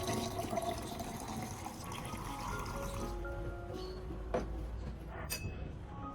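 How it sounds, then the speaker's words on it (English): Clean filtered water pours steadily into an orchid nutrient solution, a continuous liquid splash and trickle that tapers off toward the end with a few small clinks. "add 500 milliliters of clean filtered water to the solution"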